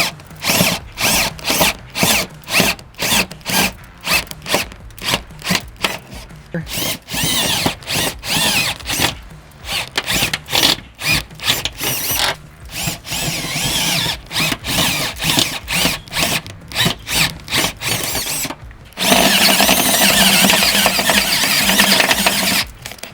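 A power drill bores a hole through metal on a low-speed, high-torque setting during an off-road snorkel install, loud and close, in repeated bursts with short pauses before a final sustained run.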